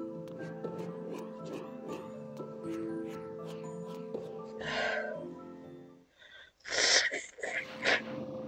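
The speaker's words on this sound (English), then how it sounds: "gonna sneeze." A person sneezes in a room, a sharp burst after soft tonal background music, then a second louder sneeze-like snort and breathy noises close to the microphone.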